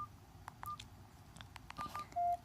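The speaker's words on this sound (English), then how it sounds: "Okay, so all the ringtones work." A phone plays a rapid series of short electronic tones at low volume, ending on a sustained beep, with no talking.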